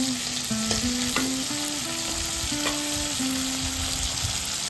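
Bay leaf, dried red chilli and whole garam masala temper in hot oil, producing a dense, steady, close crackling sizzle with no voices, over a low steady hum.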